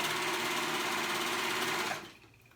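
Sewing machine running steadily as it stitches a ruffle on a top, a continuous close whir for about two seconds before it stops and leaves a faint hum.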